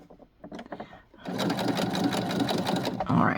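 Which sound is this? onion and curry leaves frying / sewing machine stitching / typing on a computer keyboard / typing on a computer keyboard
sewing machine stitching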